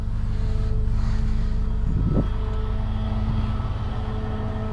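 A car engine drones steadily while the driver presses the gas during a recovery off a wooden pole with a Jerrdan MPL-40, a low hum with a brief rise in revs near the middle, no talking.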